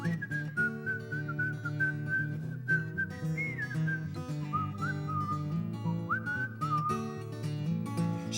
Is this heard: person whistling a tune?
yes